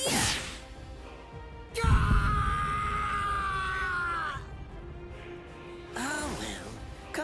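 A man screams in pain in the Bleach Rebirth of Souls video game, a long, strained, wavering cry that opens with a hit, then trails off, followed by a shorter, rising yell over a steady game soundtrack.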